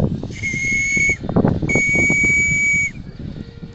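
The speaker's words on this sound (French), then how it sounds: "un petit coup de sifflet déjà pour nous dire bonjour" Two long, high steam-whistle blasts from a radio-controlled steam model boat, the second longer, with engine and water noise underneath.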